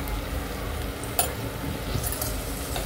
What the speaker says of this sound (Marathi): आता मिक्स करायचं.